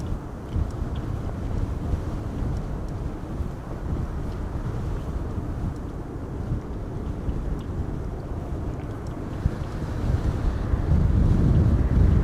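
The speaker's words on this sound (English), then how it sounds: "definitely not feeling that the wind is slowing down yet" Strong gusting wind buffets a microphone at Amsterdam Schiphol Airport, a steady, dense low roar that swells louder toward the end, with no voices.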